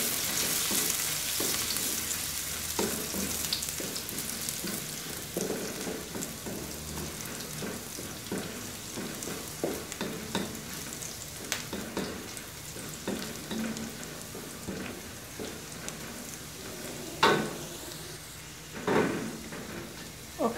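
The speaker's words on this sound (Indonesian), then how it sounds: "Kita goreng sampai harum." Garlic and dried shrimp stir-fried in a pan for Taiwanese-style cucumber stir-fry, a steady soft sizzle broken by scraping stirs and clatters of the utensil, close by and fairly quiet.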